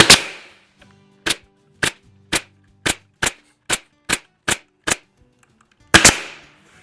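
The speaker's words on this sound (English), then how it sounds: "I'm going to put a staple right on that line, about every 4 inches, all the way down" Staple gun fired repeatedly into an RTA two-tier wall cabinet panel along a scribe line: about ten sharp, evenly spaced snaps at a steady rhythm, each distinct and close, with a louder shot at the start and end.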